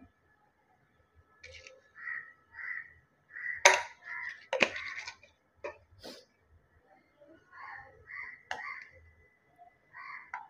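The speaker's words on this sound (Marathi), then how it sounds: "तुम्हाला इथे मध्ये-मध्ये कावळ्याचा आवाज येत असेल." Crow caws outside a home kitchen during cooking, several short harsh calls in irregular bursts, moderately near, with a few sharp clattering knocks in between.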